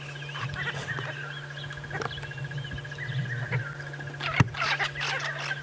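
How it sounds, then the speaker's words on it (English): Diederik's cuckoo calling in the background during an early-morning safari drive, a repeated high note running through a steady wash of other birdsong and a low engine-like hum. "And in the background, James, I can hear the Diederik's cuckoo."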